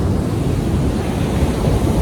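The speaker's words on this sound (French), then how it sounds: "les vagues sont puissantes ici" Powerful ocean waves on the beach at Varkala, India make a steady, loud, broadband surf roar with some wind, continuous and with no voices.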